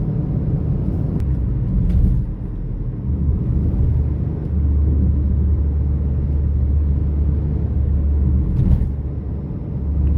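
A Maruti Swift VXI petrol hatchback cruising on a highway makes a steady, loud low cabin rumble of engine and road noise, swelling slightly midway, with no one speaking.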